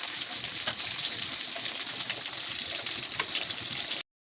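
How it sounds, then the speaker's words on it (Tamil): Onion, garlic and curry leaves sautéing in hot oil for a village-style vatha kuzhambu, giving a loud, steady, close crackling sizzle that cuts off abruptly. "இது கூடவே கருவேப்பிலை, நம்ம உரிச்சு வச்சிருக்க பூண்டு போட்டு எல்லாமே நல்லா வதங்கணும்"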